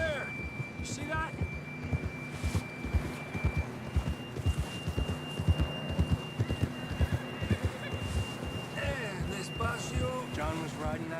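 Horse hooves clip-clop at a steady riding pace in Red Dead Redemption 2, with a sharper whinny near the end, all under a game soundtrack and ambient tones.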